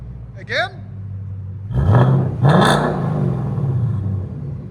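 A Ford Mustang GT with a 5.0L V8 and aftermarket exhaust revs sharply twice, close and loud, rising from a deep idle burble into snarling bursts before settling back, with a brief voice at the start.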